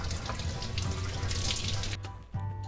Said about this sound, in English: we just rinse the meat the way you want it